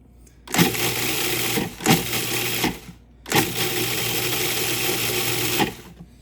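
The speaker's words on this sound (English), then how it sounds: "I'm gonna pulse that up a few times in my food processor and kind of break those breadcrumbs up a little bit" A food processor pulses breadcrumbs in three whirring bursts of one to two and a half seconds each, separated by short pauses, with a rattling mechanical drone loud and close.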